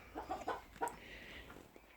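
A broody hen sitting on her eggs gives a few low, throaty clucks in quick succession, close but fairly soft, followed by a quieter stretch of faint murmuring.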